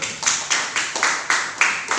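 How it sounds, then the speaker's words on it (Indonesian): Rhythmic clapping in a classroom, about eight evenly spaced claps at a steady beat, close and moderately loud, with no voices. "tepuk tangan untuk kita semua yuk"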